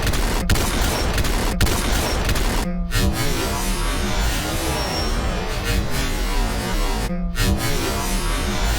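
Rapid gunfire from the DT weapon in the VR shooter Population One, a dense continuous barrage of loud shots with two brief pauses, no talking.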